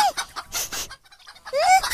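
A cartoon chicken squawks and clucks up close in a few sharp bursts while being held, with a brief quiet gap before a final loud squawk as it breaks free.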